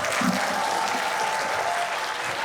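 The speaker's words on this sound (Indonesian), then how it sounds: "Tepuk tangan juga buat teman-teman." An event audience applauds at a soft launch gathering, a steady wash of many hands clapping at a constant level from start to finish.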